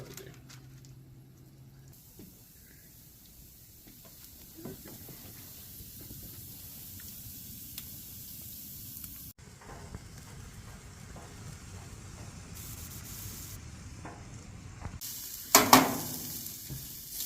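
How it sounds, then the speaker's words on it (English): Shrimp cooking on a grill give off a soft, steady sizzle and hiss, fairly quiet and continuous, with brief louder clatters near the end. "I've never cooked shrimp on grill."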